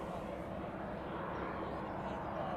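A steady, low, distant roar of an Antonov An-124 cargo aircraft approaching East Midlands Airport in the evening, faint and continuous with no talking.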